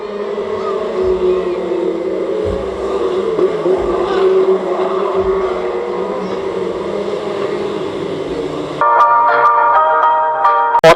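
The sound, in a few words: stock rod race cars racing at Cowdenbeath Racewall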